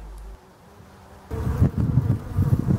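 Honeybees buzz around hives outdoors, a dense, close swarm hum swelling in after a quiet start and continuing loud and steady, with some wind noise.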